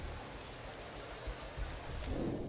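Steady rain from a motor racing management game, a dense continuous hiss of falling drops with a low rumble underneath, even in loudness throughout.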